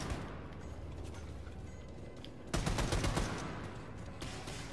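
Gunfire in Wolfenstein 2: The New Colossus, a dense stream of rapid shots layered over game noise, swelling into a sharper, louder burst of fire partway through before easing back to a steady clatter.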